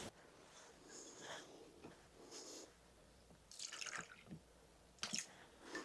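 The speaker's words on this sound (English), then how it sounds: "we're going to add enough water until it reaches the 2 cup line" Water poured into a measuring cup holding two eggs, with soft intermittent splashing and trickling bursts, quiet and close, coming in several short pours.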